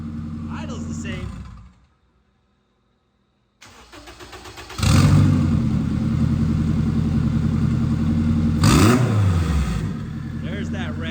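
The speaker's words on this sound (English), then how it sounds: "There's that rev." An engine fitted with two fuel injectors in one hole runs, cuts out into silence, then cranks and restarts. It settles into a rough idle and gives two strong revs that climb and fall back.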